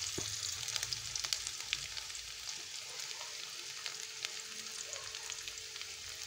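Onion frying in a pan until reddish-brown for a home recipe, a soft continuous sizzle with crackling pops and a few light stirring clicks, fairly faint and without voices.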